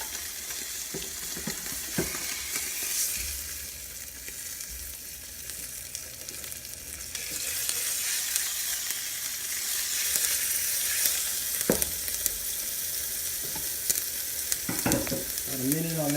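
Sesame-crusted tuna sears in a hot pan with a constant close sizzle, growing louder partway through, with a few sharp metal spatula clicks and scrapes as the fish is flipped, and no talking.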